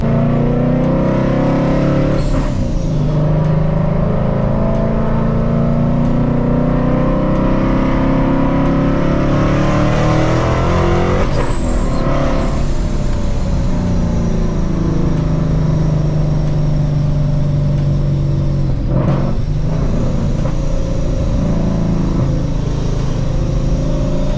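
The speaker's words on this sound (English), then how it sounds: "These Coyote motors are just so ruthless up in the higher RPMs, and that's kind of where these Century blowers live." Paxton Century-supercharged S197 Mustang with a Coyote engine making hard pulls, a loud sustained roar climbing in pitch through the high revs, broken by brief dips at gear changes, close and alone.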